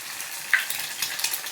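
Eggs hit a hot pan for masala bhurji and give a bright, crackling sizzle that flares briefly, then settles into steady frying hiss over a short stretch, with no voices.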